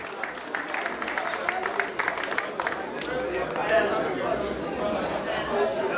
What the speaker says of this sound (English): I wanted to give the NIA a round of applause